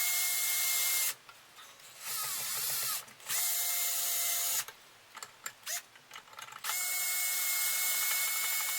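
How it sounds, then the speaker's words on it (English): A power driver loosens the strings on a 2021 Fender Player Stratocaster Plus Top, giving loud ratcheting whirs in three bursts separated by short pauses with quieter clicks between them. "Using the driver here, the power driver. Make short work of loosening the strings for sure."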